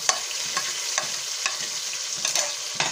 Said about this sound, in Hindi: अब टमाटरों को भी भून लेंगे।